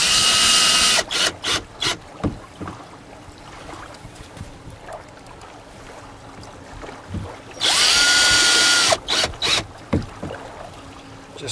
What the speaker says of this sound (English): Drill 3/32 pilot holes and install number 8 by 5/8 oval head screws at these locations